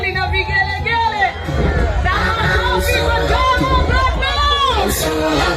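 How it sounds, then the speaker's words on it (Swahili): At a baby shower party, a crowd cheers and ululates loudly and continuously, high trilling calls rising over dense excited chatter close by. "naomba kelele tafadhali na vigelegele"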